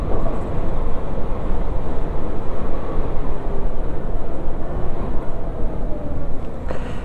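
LiveWire S2 Alpinista electric motorcycle on the move, a loud, constant rush of wind and road noise with no motor whine standing out and no talk.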